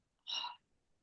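A single quick sneeze from a person, short and fairly close, breaking a quiet pause in a conversation with no talking over it.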